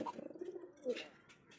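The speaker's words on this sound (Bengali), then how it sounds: "বুঝতেই পারছেন কি কবুতর এটা? শৌখিন কবুতর" A soft fancy pigeon coo, low and throaty, with a brief louder burst partway through against a quiet background.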